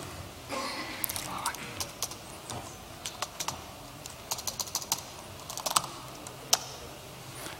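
Rapid clicking of keys on a computer keyboard as a password is typed, fairly close, in quick irregular bursts with short pauses between keystrokes and light room noise underneath.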